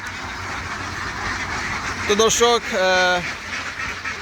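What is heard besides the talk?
ducks quacking while being released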